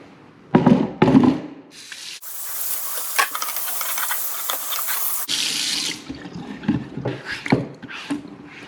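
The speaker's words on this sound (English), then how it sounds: "Just going to rinse off that hood." Tap water runs steadily over a squid hood being rinsed clean at a sink, a continuous splashing rush lasting several seconds between louder handling clatters.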